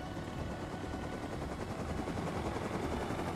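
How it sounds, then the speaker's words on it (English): Helicopter in the survival video game Rust, a constant dense rotor drone with thumping blade chop, fairly faint and steady throughout, with no speech. "That's a helicopter."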